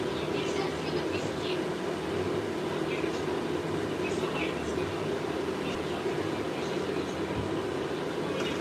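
Tram No. 3 running through St Petersburg between Repin Square and Lenin Square, a steady low rumble of wheels and motor heard from inside the car, continuous and even throughout.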